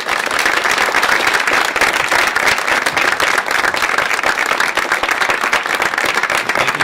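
Dense, loud applause from an audience welcoming Rhode Island Governor Lincoln Chafee to a speaking event in Austin, a steady wash of many hands clapping with no letup, no voices heard over it.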